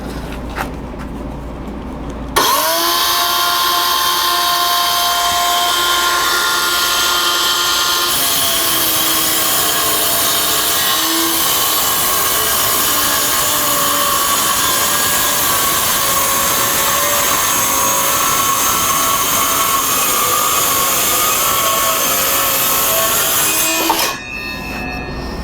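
A power saw runs steadily through white poplar wood for over twenty seconds, a loud continuous whine with a grinding, rasping cut that shifts pitch slightly partway through, then stops abruptly.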